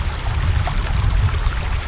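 Creek water rushes and burbles around a Vizsla on a hot summer hike, a loud, continuous close-up flow with a deep rumbling undertone.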